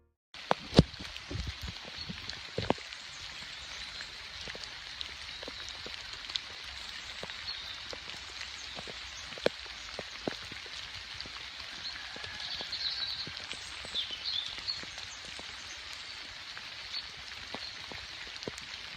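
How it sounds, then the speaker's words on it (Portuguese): Torrential rain pours steadily on the Camino de Santiago, a dense continuous hiss with scattered sharper drop impacts throughout, close and fairly loud, with no voices. "Neste dia em que chovia torrencialmente"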